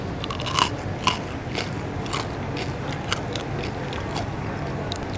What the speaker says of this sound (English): the skin still has an excellent biscuit crunch